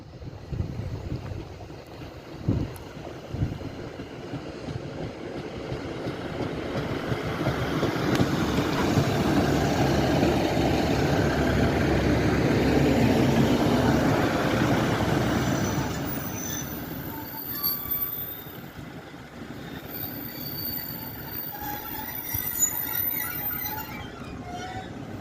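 Northern diesel passenger unit 150206 passes through Swinton station in South Yorkshire, rumbling louder as it nears, with squealing wheels and rail noise peaking mid-pass, then fading as high wheel squeal lingers.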